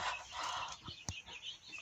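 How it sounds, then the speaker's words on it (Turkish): A newly acquired Spanish rooster gives a short, faint vocalization close by, brief and scratchy against background noise. "Tabii ki de İspanyol horozu."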